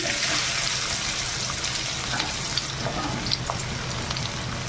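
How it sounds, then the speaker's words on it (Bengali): Chopped onion fries in oil in a wok, giving a dense, continuous hiss that stays loud and close from start to end, with faint scraping and no voices. "কড়াইতে তেল আছে আর তেল আমি দিব না দিয়ে দেবো পেঁয়াজ কুচি"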